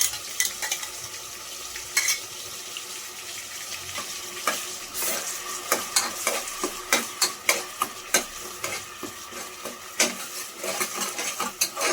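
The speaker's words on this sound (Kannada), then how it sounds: "ಫ್ರೈ ಆಗ್ತಾ ಇದೆ." Onion paste frying in a pan while a spoon stirs it, ahead of a crab masala; there is a steady sizzle with repeated scraping and clinking against the pan and no voices.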